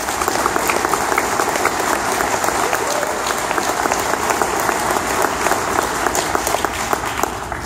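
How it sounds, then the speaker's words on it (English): A crowd at an Oktoberfest fundraiser dinner for a high school gives sustained applause, dense rapid clapping that stays loud and even for several seconds, with some voices underneath. "How about a round of applause for them?"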